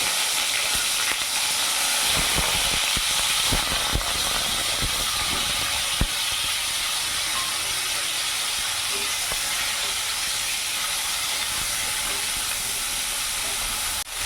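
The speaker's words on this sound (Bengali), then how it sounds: "এবার ওই তেলের মধ্যে এখানে ফুলকপিগুলো ভেজে নেব।" Cauliflower florets fry in oil, a loud, steady hissing sizzle that fills the whole stretch, with a few clicks and scrapes early on and no voices.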